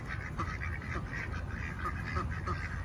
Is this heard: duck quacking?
yes